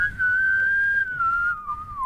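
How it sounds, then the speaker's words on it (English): A person whistles a single sustained, wavering tune held close to a microphone, loud and clear throughout with a slight downward drift near the end, no talking over it. "it's hard to whistle in a microphone"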